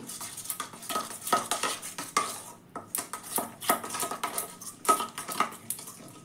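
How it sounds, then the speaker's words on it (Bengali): A spice mixture with about three spoons of Kashmiri chili powder is beaten in a bowl for chicken tandoori, giving a steady run of close clinking and scraping strokes against the bowl, alone and without voices. "এটা ভালো করে আমি ফেটে নেব"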